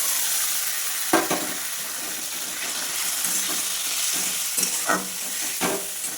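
Vegetables are stir-fried in a pan with a steady hiss and sizzle, punctuated by a few sharp knocks and scrapes from the stirring utensil, heard close and without talk.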